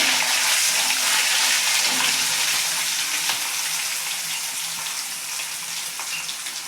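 Garlic chili hitting hot oil in a pan while a Gujarati wedding-style desi chana curry is cooked, giving a steady, close broadband sizzle that fades slightly toward the end, with no talking.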